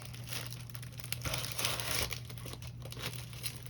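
Crinkling of glitter and foil craft sheets being handled up close, a steady soft crackle with brief louder crumples, no voices.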